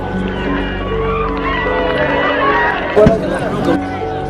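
Crowd of Palestinian protesters near a fence, a loud continuous roar of many voices shouting together with one sharp knock partway through.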